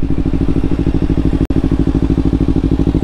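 A Honda Activa scooter engine putters steadily and loudly up close while being ridden, its fast, even pulsing broken by one sudden brief dropout halfway through.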